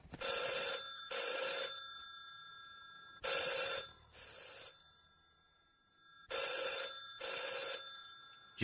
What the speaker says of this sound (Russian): Что это вдруг заработал телефон?